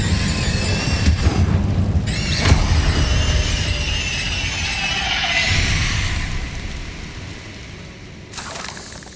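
The Incendio fire spell in the Hogwarts Legacy video game erupts as a loud, close booming whoosh with crackling flame, a roaring burst that fades away, then a brief final flare.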